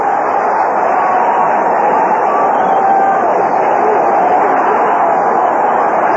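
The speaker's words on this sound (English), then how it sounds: "And listen to the crowd now." A baseball stadium crowd at an NLCS game between the Mets and Astros roars as a continuous, loud, dense wash of cheering and babble, heard alone without commentary.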